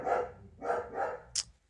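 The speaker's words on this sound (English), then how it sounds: "Why, doggies? Why you barking? I'm recording!" Dogs barking indoors nearby: three loud barks spaced at a steady pace, then a brief sharp yip, with no talking.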